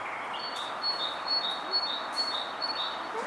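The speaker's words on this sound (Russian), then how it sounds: "А как поют птицы тут, Дим, слышишь?" Birds singing outdoors on sanatorium grounds in Tolyatti in June, a run of repeated high chirps and short song phrases over soft steady background ambience, moderately distant, no talking.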